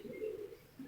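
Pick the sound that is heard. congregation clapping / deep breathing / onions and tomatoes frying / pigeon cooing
pigeon cooing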